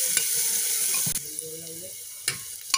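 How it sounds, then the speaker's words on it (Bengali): Chopped onions and green chillies sizzle steadily in a pan for a Bengali moong dal with fish head, a continuous close frying hiss with a few clinks of a utensil. "এখন এর মধ্যে আমি পেঁয়াজগুলো দিয়ে দিচ্ছি, পেঁয়াজ কুচিটা দিয়ে দিলাম, একই সঙ্গে আমি লঙ্কাগুলো দিয়ে দিচ্ছি। এবার এগুলোকে হালকা করে ভেজে নেব।"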